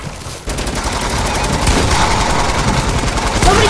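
Sustained rapid gunfire in the video game Fortnite, a loud, continuous burst of automatic shots beginning abruptly after a brief quiet moment and rattling on steadily to the end.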